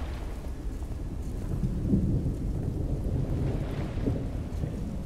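Thunderstorm in the horror video game The Evil Within: a steady low rumble of rain and distant thunder rolling on without pause, with a couple of slightly heavier swells and no voices.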